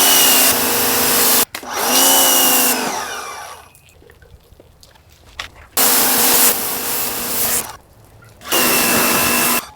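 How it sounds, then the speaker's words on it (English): A pressure washer blasts in loud bursts of hissing spray, starting and stopping several times with a pump motor humming between triggers, close by outdoors at an RV campsite. "Another day, another reason to use the pressure washer."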